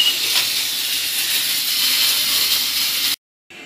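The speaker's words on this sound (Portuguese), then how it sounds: "E vamos continuar dourando aqui todos os lados da carne" Beef searing in a hot pan for homemade roast beef, a steady loud hiss of sizzling fat that holds for about three seconds, then cuts off abruptly before resuming faintly.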